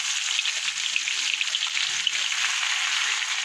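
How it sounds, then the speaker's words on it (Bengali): A steady, bright sizzle of onion and garlic frying in hot oil, close and continuous with small pops throughout. "পেঁয়াজ রসুনটা কিন্তু ভাজা ভাজা হয়ে গেছে"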